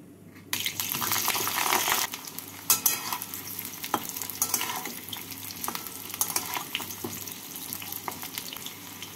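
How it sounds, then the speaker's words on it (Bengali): Young jackfruit pieces fry in oil in a pan. A steady, close sizzle runs throughout, with intermittent scraping and stirring knocks and a few sharper clicks, and no talking. "এঁচোড়গুলোকে আমি একটু লাল করে ভেজে নিলাম।"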